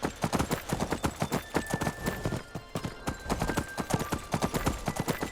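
Horse hooves clip-clop in a video game in a fast, steady galloping rhythm, close and distinct, with a faint tone running underneath.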